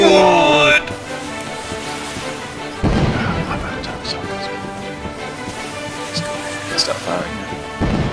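Artillery fire in a battle game, with loud booming blasts at the start, near 3 seconds and near 8 seconds, each followed by rumbling decay and scattered crashes amid a noisy combat din.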